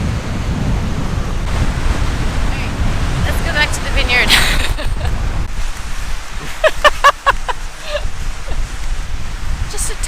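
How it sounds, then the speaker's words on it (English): Strong gusty wind roars and buffets close by at a Nova Scotia vineyard, with voices talking over the blustery rumble throughout. "It's a little windy."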